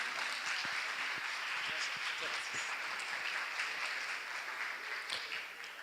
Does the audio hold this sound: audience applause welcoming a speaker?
yes